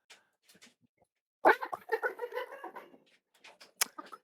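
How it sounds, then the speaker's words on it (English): A modded hyena in a video game lets out a short burst of cackling, cluck-like calls that sound almost like chickens, quiet and alone with a few faint clicks around it. "it sounded like it might have been a hyena cackle"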